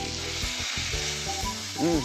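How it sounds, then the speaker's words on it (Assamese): Fish frying in a pan over an open fire sizzles steadily and up close, with a brief scrape of stirring and a short burst of voices near the end. "আপোনালোকক ওচনিৰ পৰা দেখুৱাই আছোঁ মাছ ভজা"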